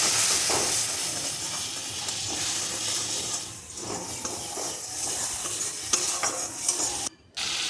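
Masala with turmeric and a splash of water being fried and stirred in a pan: a continuous close sizzle with spoon scrapes and shifting intensity, then a brief dropout near the end.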